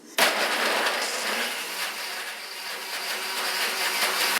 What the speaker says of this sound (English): So let me just blend this up here real quick.